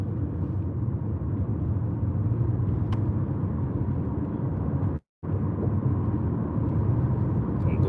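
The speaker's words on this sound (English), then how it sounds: "Hit your gas, because people behind you." Car engine and road rumble from inside a vehicle as a learner driver presses the gas, a steady low drone that continues evenly throughout, broken by a brief dropout near the end.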